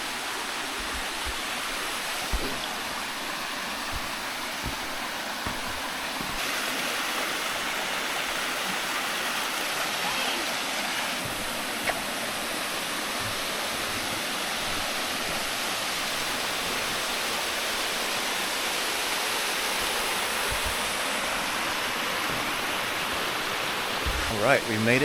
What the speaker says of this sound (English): we made it to the falls